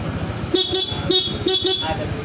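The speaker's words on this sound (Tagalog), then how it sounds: "Yan yung kanyang stock horn." A Honda ADV 160 motorcycle's stock horn honks five times in quick short beeps, loud and close, in two clusters with brief pauses between.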